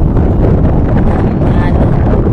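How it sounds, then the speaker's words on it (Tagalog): Strong wind buffets the microphone on an island shore with continuous loud, low rumbling gusts that fill the whole clip. "pinapatpad ako ng hangin. Sobrang lakas."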